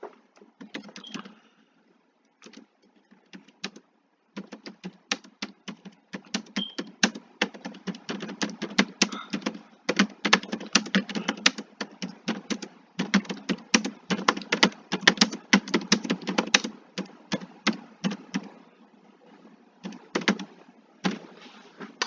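Typing on a computer keyboard while filling in a PDF document, a long run of crisp, close key clicks in uneven bursts with short pauses, alone in a quiet room.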